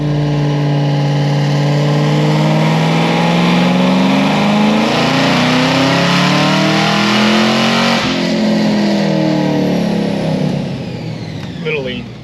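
A high-powered car on 93 octane pump gas runs a short dyno pull to 5,500 rpm, its engine droning loud and steady as the pitch sweeps upward, then eases off as the pull ends; voices talk over the engine.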